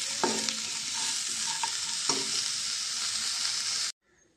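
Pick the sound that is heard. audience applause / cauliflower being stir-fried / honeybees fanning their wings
cauliflower being stir-fried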